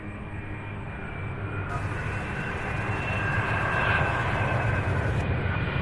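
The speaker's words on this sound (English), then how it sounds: "here is the first of 3 MD-11s in a row" An MD-11 jet at Louisville airport gives a continuous loud engine roar that swells gradually, with a faint high whine on top and no break in the sound.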